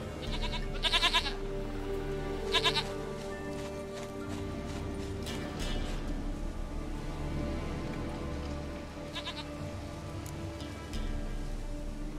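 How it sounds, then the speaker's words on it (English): In The Witcher 3: Wild Hunt, a goat bleats a few times up close alongside hoof clops and a steady ambient game backdrop. "goat of mine, dearest, sweetest goat."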